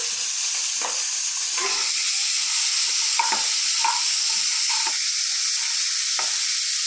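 Crabs frying in a hot pan with oil, a steady close sizzle broken by repeated scraping stirs of a spatula, with no voices.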